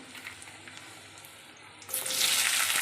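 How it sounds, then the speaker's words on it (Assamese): Chopped onions hit hot oil for a spicy dhaba-style chicken masala gravy, setting off a sudden loud, steady sizzle and hiss after a quieter stretch of faint kitchen noise. "তেল গৰম পিঁয়াজখিনি দি দিওঁ"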